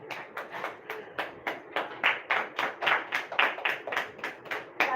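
An audience at a Hindi poetry gathering claps in a steady rhythmic beat, a close, fairly loud run of regular claps that carries on without pause.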